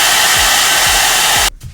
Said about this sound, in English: I'm going to use my hair dryer on a cool setting